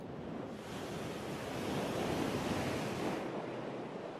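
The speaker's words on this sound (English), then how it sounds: "The richness of Starbuck's reef ends with the breaking waves." Ocean waves breaking on Starbuck Island's reef in the Pacific make a steady, full roar of surf with wind noise, swelling slightly in the middle and heard alone.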